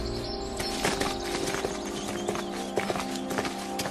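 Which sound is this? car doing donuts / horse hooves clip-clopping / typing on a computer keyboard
horse hooves clip-clopping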